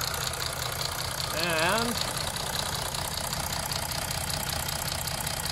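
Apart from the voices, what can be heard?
Mercedes OM642 diesel engine idling during injector leak-off test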